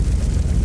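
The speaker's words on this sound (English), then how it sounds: "Grenade!" A grenade goes off in the video game Aliens: Dark Descent, a loud, close, low rumbling blast that fills the whole short moment without any voices.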